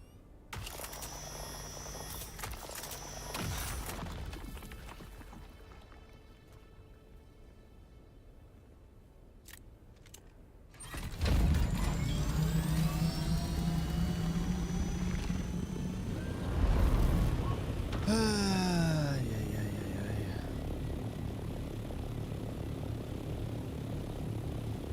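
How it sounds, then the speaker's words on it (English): Helicopter in the video game Dune Awakening, a steady airy engine and rotor roar out in the deep desert that drops quieter for a stretch, then surges back loud and close and holds for the remaining seconds. "Every time I dismount the helicopter, it's like a mess."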